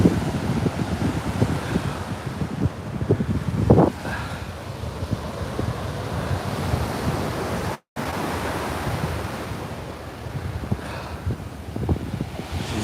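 Steady wind and surf along Coney Island beach, a continuous broadband wash of waves with gusting wind noise on the microphone, one brief dropout midway, no voices.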